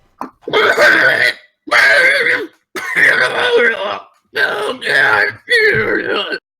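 A person imitates a hacking coughing fit with their voice, in five loud, rasping bursts separated by short pauses.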